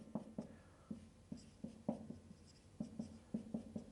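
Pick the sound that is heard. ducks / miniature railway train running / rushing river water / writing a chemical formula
writing a chemical formula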